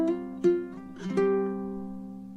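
A guitar plays a short melodic phrase from an Indian love song using hammer-ons and slides, several clear plucked notes with smooth legato connections ringing out alone and close.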